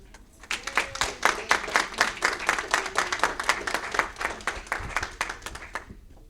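Audience applause at an African Diaspora World Tourism Awards expo, a steady run of many hands clapping for several seconds, building quickly and then thinning slightly toward the end, with no talking over it.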